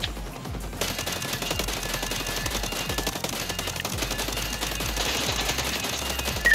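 Continuous rapid gunfire from the video game Ghost Recon Breakpoint during a fight against a Terminator-style enemy, a dense steady stream of shots with no talking.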